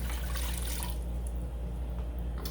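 Two cups of water rush and splash steadily into a pot for a couple of seconds, then the flow thins out.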